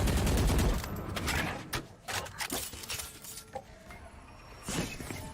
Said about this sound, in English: spraying away a lot of bullets being spammed backside